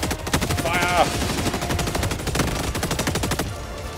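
Loud, fast machine-gun fire in Helldivers 2 pounds in a dense, continuous rhythm for several seconds before cutting off near the end, with a brief whistling tone early on.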